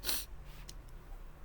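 A single quick, close nasal sniff at the start, followed by quiet room tone with a couple of faint clicks.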